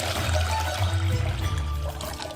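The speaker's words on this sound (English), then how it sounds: "take the ostrich egg, put it in a bucket, pour water in it" Water pours steadily into a bucket holding an ostrich egg, a continuous gushing, splashing stream close by, with no one talking.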